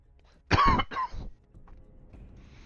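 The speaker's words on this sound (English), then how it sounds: "Should really mute myself with these coughs." Two sharp coughs in quick succession, close and fairly loud, followed by a quiet stretch of low room noise.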